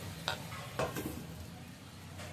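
A spoon stirring vegetable curry in a cooking pot after water is added, with a few distinct scraping strokes over a low simmering sizzle in a quiet home kitchen.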